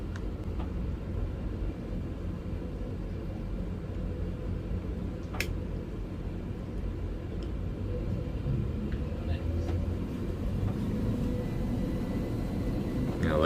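Twin Yamaha 425 XTO outboard motors on a boat, a loud, steady low engine rumble that swells slightly toward the end, with a voice speaking faintly under it.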